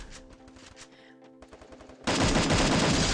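Gunfire in the video game Free Fire: scattered automatic bursts over a faint game-music hum, then a sudden loud sustained volley of rapid shots that fills the last second.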